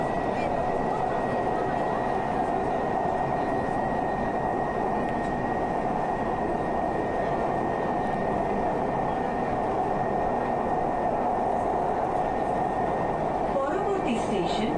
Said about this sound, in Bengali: যেহেতু গঙ্গার তলা দিয়ে মেট্রো সফর আমার কাছে ছিল এটাই প্রথমবার